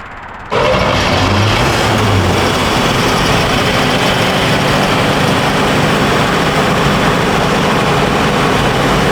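An old Chevy truck engine running lean roars loud and close with a steady, dense rumble that holds unbroken after a sudden start, no voices over it.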